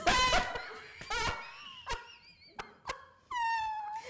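A small dog whimpers and whines close by in a series of high, wavering cries broken by short pauses.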